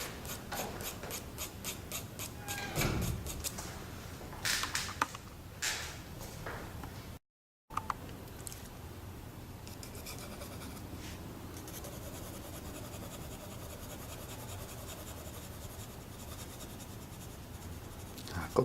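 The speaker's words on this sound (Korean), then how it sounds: "내가 색을 좀 진하게 넣을 때는 연필을 좀 세게 쥐고, 가볍게 넣을 때는 연필을 좀 가볍게 쥐고" Soft graphite scratching as a 4B pencil shades a red brick drawing on paper, with rapid short strokes early, then steadier back-and-forth rubbing, faint and close throughout.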